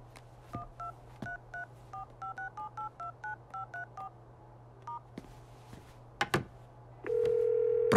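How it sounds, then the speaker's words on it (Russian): Touch-tone keypad dialing a mobile number: a quick run of about a dozen short DTMF beeps, followed by a couple of clicks and a steady ringback or dial tone at the end, heard clearly with no talk. "Тогда я наберу его сам."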